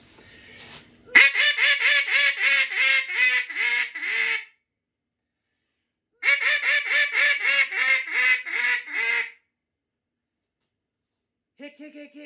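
A Matt Pierce small bore mallard duck call blown in two long runs of loud, rapid, evenly spaced quacks, clear and close, separated by a short pause, with a brief burst starting again at the end.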